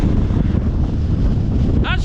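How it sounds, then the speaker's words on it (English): Strong wind on Cadair Berwyn mountain buffets the microphone in loud, continuous gusts with a low roaring rumble throughout. "it's a tad windy"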